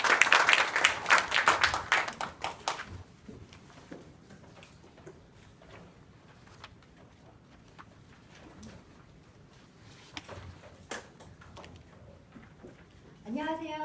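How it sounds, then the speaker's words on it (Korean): An audience at a press conference for a community amateur orchestra festival claps to welcome a speaker, a brief burst of applause that quickly dies away into a quiet room, with a voice starting at the very end. "예, 박수로 환영해 주시기 바랍니다."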